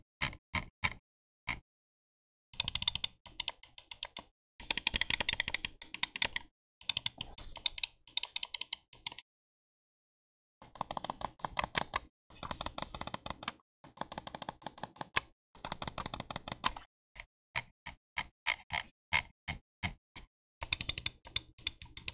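Clicks from a Razer Viper V2 Pro wireless gaming mouse, heard close and quiet as crisp rapid taps in rhythmic clusters with short pauses between them, alone with no voices.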